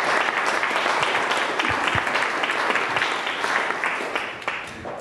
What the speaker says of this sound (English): please give a warm round of applause for Kerry-Anne Mendoza.